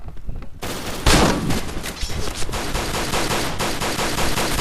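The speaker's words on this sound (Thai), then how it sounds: "ดีเซอร์มันไม่ได้ยิงเร็วขนาดนี้เลยนะเนี่ยดู ดูปุ้งปุ้งปุ้งเลย" Rapid, dense gunfire from a Desert Eagle pistol in a video game: a fast, continuous string of loud, close shots that keeps going without pause after a brief lead-in.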